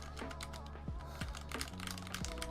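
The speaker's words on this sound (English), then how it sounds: "let's get into the typing test now that we can actually do things" Someone types steadily on a GMMK Pro mechanical keyboard in an office, the keystrokes coming close and crisp in a dense clatter with no speech.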